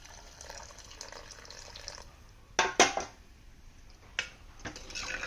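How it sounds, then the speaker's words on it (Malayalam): Boiled water is poured into a pot of mackerel fish curry on the stove, a soft low pour broken by a few sharp metallic clinks of the vessel, with no talking. "നമുക്ക് കുറച്ച് തിളപ്പിച്ച വെള്ളം കൂടി ഒഴിച്ചു കൊടുക്കാം"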